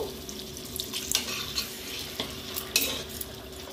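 A spoon stirring tomato ketchup and a splash of water into a pan for a Chinese-style chicken and cauliflower dish, soft wet scraping strokes with a few louder clinks over a low, steady sizzle.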